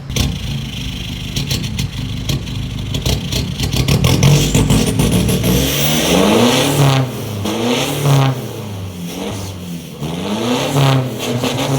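A car fitted with a Mang Sang aftermarket exhaust revs hard, loud and raspy, rising and falling in repeated throttle blips with a crackling, aggressive tone.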